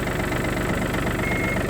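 A Yanmar F215 compact tractor engine runs steadily and loudly at close range as the tractor pulls away, with a constant low rumbling drone and no voices.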